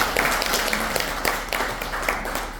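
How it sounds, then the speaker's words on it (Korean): An audience at a political lecture applauds, a dense, continuous patter of many hands clapping throughout the short span, fairly loud and close. "이 대목에서 박수 한번 치주세요."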